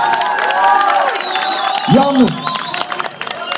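A concert crowd cheers and applauds in the Vorarlberg region of Austria, a dense roar of clapping and whoops with a voice speaking briefly through it.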